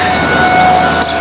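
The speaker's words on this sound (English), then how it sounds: "tornado sirens going off." Tornado sirens wail steadily in the distance, a sustained rising tone layered over loud, constant outdoor wind and rumble throughout the short stretch.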